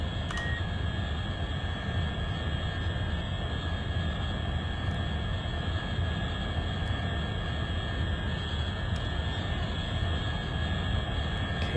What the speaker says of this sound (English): I can hear those scram engines really ramping up now.